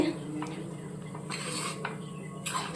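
A pot lid lifted off simmering brinjal curry, with several sharp metallic clanks and scrapes spaced through the moment over a soft background bubbling.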